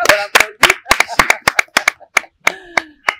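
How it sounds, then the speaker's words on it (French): A small audience at a French-speaking community awareness event claps in distinct loud bursts, roughly a dozen sharp hand claps in an uneven rhythm, with voices talking faintly underneath. "Voilà, on l'applaudit."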